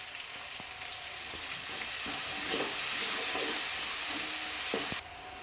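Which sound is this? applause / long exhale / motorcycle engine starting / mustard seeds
mustard seeds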